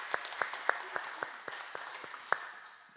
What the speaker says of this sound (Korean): 우리 하나님께 영광의 박수 올려드리시겠습니다.